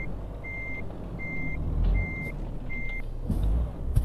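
A Renault truck reverses in the Euro Truck Simulator 2 video game, four evenly spaced reversing beeps sounding over a low, steady engine rumble.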